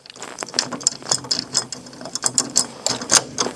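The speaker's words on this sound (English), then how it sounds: "we're going to tighten these two screws down evenly across" A ratchet screwdriver clicks in quick, uneven bursts while tightening door lock screws, with crisp close-up pawl ticks repeating throughout and no talk.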